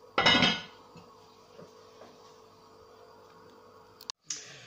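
A metal lid clanks down onto a cooking pot for blanquette de veau, one sharp loud clatter at the start, then quiet room tone and a couple of small clicks near the end.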